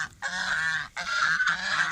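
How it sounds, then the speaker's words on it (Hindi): Ducks on a cattle farm give loud, nasal honking quacks in three close bursts, each a drawn-out raspy call separated by short pauses, near and clear. "ये जी बतखें हैं"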